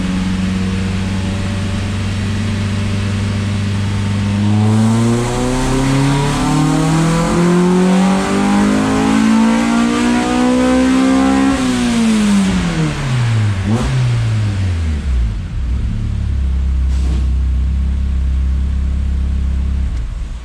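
A Honda Civic winter beater running an E85 tune with a G22 hybrid turbo and high compression revs hard through a third-gear dyno pull, engine note rising steadily for about twelve seconds, then dropping sharply before settling to idle; loud and close, no talk.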